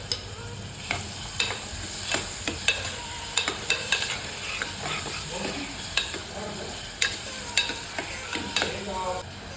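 Chopped onions frying in a pan for dal khichadi, a steady soft sizzle broken by repeated sharp scrapes and clacks of a spoon stirring, close and alone with no talking.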